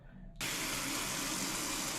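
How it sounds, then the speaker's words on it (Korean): A hotel shower in Cancún is switched on for hand-washing laundry. A sudden burst of water then hisses steadily and loudly in a tiled stall, with no one speaking. "저는 또 호텔에서 빨래 좀 하려고 샤워실에 들어왔습니다."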